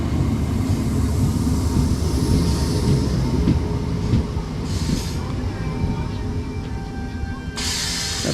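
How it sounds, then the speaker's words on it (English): A passenger train pulls into the platform at Rainhill station, Merseyside, with a steady loud rumble of wheels and carriages close by, faint squeals of braking wheels and a brief hiss near the end. "arriving now is going to be the 1615 to Manchester Airport"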